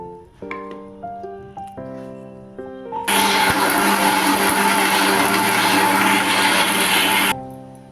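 A kitchen mixer grinder blending spices and poppy seeds with water for chicken green masala switches on partway through, a loud steady whirring roar that holds for several seconds and then cuts off, after some tonal ringing at the start.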